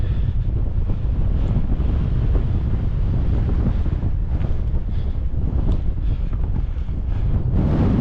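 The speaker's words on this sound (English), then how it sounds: "today we've got strong winds" Strong wind buffets the microphone in a steady, loud roar for the whole stretch, with gusty low rumbling throughout.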